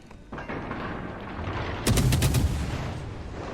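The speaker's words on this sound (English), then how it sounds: "I wonder what happens if I start shooting now." Warship guns firing in a World of Warships Legends naval battle, with a rapid burst of several loud cracking shots around the middle over a steady rumbling background.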